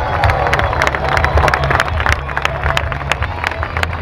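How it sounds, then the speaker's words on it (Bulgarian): A crowd applauds and cheers for General Rumen Radev after his MiG-29 fighter jet lands, a steady outdoor roar of clapping and voices over a low rumble. "Аплодисменти за генерал Радев, дами и господа!"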